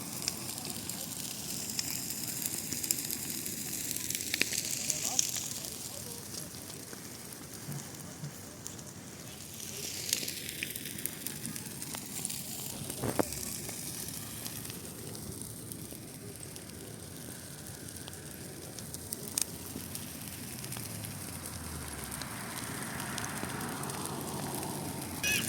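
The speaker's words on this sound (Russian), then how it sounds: "Долго горит костер, много елок, очень долго горит." A large outdoor bonfire of discarded Christmas trees burns with a steady, dense roar and continuous crackling, sparks popping throughout, with faint crowd voices in the background.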